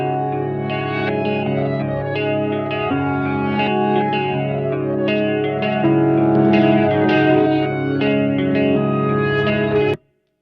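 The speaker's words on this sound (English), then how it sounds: "The dang overdrive was on." A reamped electric guitar runs with overdrive switched on and its onboard EQ adjusted, ringing out sustained, effects-heavy chords with echo and chorus shimmer at a loud, steady level before cutting off abruptly near the end.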